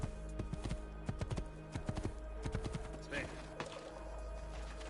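Horse hooves clatter in a quick irregular gallop in Assassin's Creed 2 Remastered, fairly close, then fade into steady game ambience with a brief clank midway.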